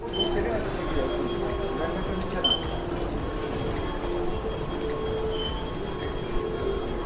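A Kolkata metro train on the Howrah–Sealdah line runs with a steady rumbling roar, faint wheel squeals and tonal whines, heard from inside at moderate loudness, with people talking underneath.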